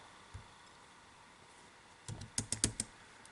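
Computer keyboard typing while entering a logic expression in Matlab, a faint tap early on, then a quick burst of about five or six distinct keystrokes near the end over a low steady background hiss.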